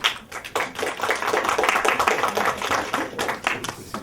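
Applause from an audience at a foreign policy conference plenary, a dense burst of many hands clapping steadily for several seconds and then tapering slightly.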